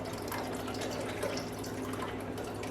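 Pomegranate martini pours steadily into a frosted glass, a continuous soft splashing trickle with no talking.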